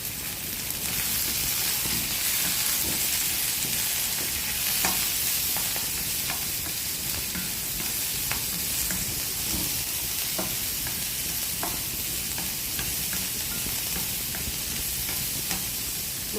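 Onion, coriander and curry leaves fry in oil, a loud, steady sizzle and hiss that runs throughout with regular soft stirring scrapes and no voices.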